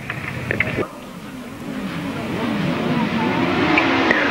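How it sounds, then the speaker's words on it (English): Grasstrack sidecar motorcycles at a 1995 July race meeting pull away from the start line together: a brief clatter, then a swelling, sustained engine roar that grows louder as the pack heads down the first straight. "Away they go then, they leave the line and they come down the first straight"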